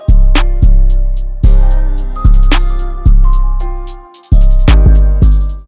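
An FL Studio trap beat built on booming 808 bass hits and a crisp hi-hat pattern with an open hat landing twice every two bars, playing loud and steady with no talk.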